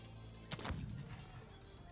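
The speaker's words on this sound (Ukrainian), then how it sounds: "Під'їжджає гармата, і зараз вона картечу зробить один постріл" A single muffled boom of a cannon firing canister shot in the video game Cossacks 3, short and fairly faint, standing out against a steady low background hum.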